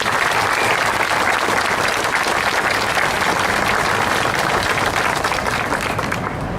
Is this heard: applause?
yes